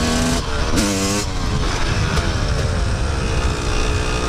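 A new Yamaha YZ250 two-stroke dirt bike screams loudly and close as it accelerates through first, second, third and fourth gear, its engine pitch climbing and dropping briefly at each shift.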